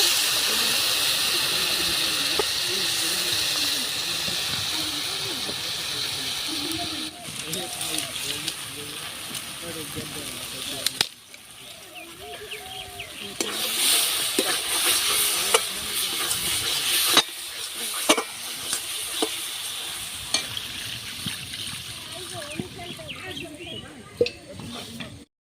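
Water poured into a hot pan of fish curry with chilli, turmeric and cumin powders sets off a loud hiss and bubbling sizzle, followed by stirring; a voice talks at times over the cooking.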